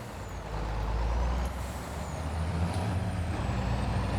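Trucks on a farm sugar harvest near Forest River, North Dakota rumble low and close while pulling up, with a steady diesel drone and air-brake hiss layered in, no talking.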